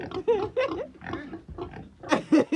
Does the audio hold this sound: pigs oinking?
yes